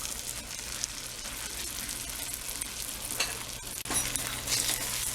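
Bologna slices fry in butter in a pan with a steady, close crackling sizzle, joined by a few brief scraping stirs partway through.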